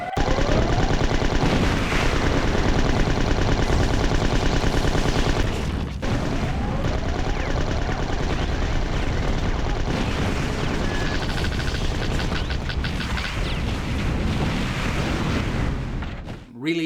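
Heavy mech gunfire and cannon blasts from the 1999 mech shooter Slave Zero, a loud, dense and continuous barrage of shots and booms with a brief dip around the middle.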